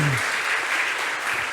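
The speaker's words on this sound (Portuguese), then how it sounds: "Aplauda o nome dele." Congregation applauding at a church service, a dense steady clapping that fills the room throughout, with a brief low voice tail at the very start.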